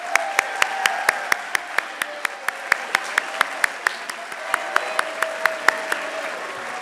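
Audience applause for coaches at a university awards ceremony, the Augsburg University Auggie Awards: a steady, moderately loud patter of many hands clapping, with a few sharp individual claps standing out, continuing unbroken throughout.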